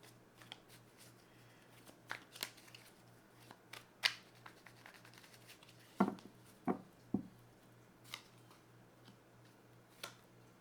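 Tarot cards are handled quietly nearby, with soft, irregular flicks and taps and a few sharper snaps spread across a near-silent background with a faint steady hum.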